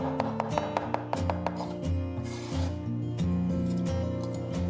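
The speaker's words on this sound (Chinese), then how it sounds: "湖南剁辣椒，我们就给它稍微切碎一点点哈" A knife chops Hunan chopped chili finely on a board, a quick run of sharp, close taps at the start that soon sink beneath steady background music.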